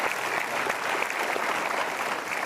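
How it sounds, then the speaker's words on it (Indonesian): Audience at a Mario Teguh motivational talk show breaks into dense, steady applause for three guests, a loud, sustained wash of clapping with a faint murmur of the crowd underneath. "kita berikan tepuk tangan untuk mereka bertiga"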